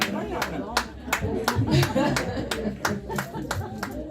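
A single person claps at a steady, even pace at a church gathering, sharp distinct claps about every half second, with quiet chuckling and murmured voices mixed underneath.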